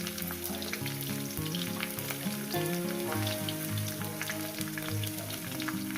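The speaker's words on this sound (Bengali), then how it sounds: "চার পাঁচ মিনিট ভেজে নেব" Fish and snake gourd sizzle and crackle steadily in hot oil in a pan, a close, continuous frying hiss with occasional stirring and no talk.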